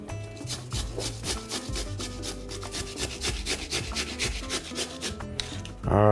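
Vegetables, apparently sweet pepper, are rubbed over the fine holes of a grater in a kitchen, giving a steady run of close rasping strokes with a brief clatter at the end.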